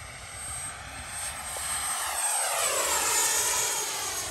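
A Freewing Eurofighter Typhoon RC jet with a 90mm electric ducted fan on 6S power and a new higher-KV motor flies past, a steady loud whine rising and shifting in pitch as it passes overhead.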